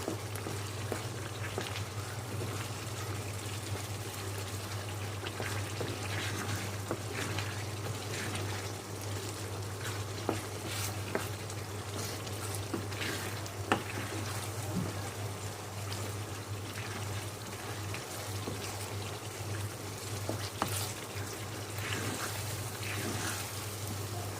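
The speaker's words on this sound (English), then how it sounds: "I'm going to add the can of kidney beans. Give this a good mix." Chilli con carne with added kidney beans sizzles and bubbles in a hot pan over increased heat, a steady low simmering hiss with occasional soft clicks of stirring.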